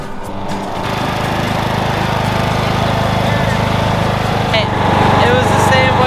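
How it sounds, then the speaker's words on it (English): A riding lawn mower with a flat tire is driven close by, its engine loud and steady, the rough motor drone continuing throughout with slight shifts in pitch. "Driving your lawnmower with the flat tire."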